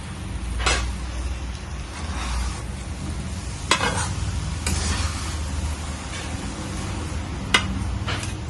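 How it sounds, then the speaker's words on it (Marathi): Jaggery melting in a pan over a low gas flame while being stirred for amla murabba, a low steady bubbling hiss under a faint rumble, with a few sharp spoon clinks against the pan. "कमी गॅसमध्ये गूळ हा वितळून घ्यायचा आहे याच्यात"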